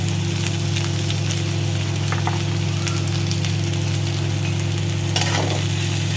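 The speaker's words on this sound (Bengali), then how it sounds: "টমেটো একটু ভাজা ভাজা করে নেবো" Tomato slices fry in a pan alongside onion and long-cut beans, giving a steady, close sizzle with a low hum beneath and a brief stirring scrape near the end.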